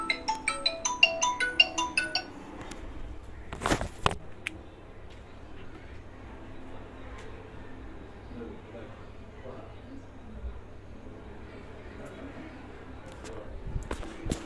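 An incoming-call phone ringtone plays a short repeating melodic pattern at the start, fairly faint under soft background noise from a Clash of Clans game, followed by a few thumps and quiet ambience.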